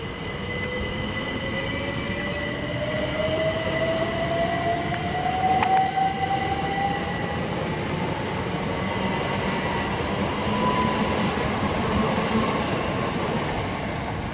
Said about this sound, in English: Also departing is 387166 off to Reading, and we'll get its rear unit as it departs as well.